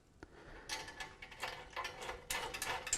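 Bolts with nylock nuts are tightened on a Triton workcentre, making close, quiet ratcheting clicks in short irregular bursts. A brief tap comes first, then clustered metallic ratchet strokes run to the end.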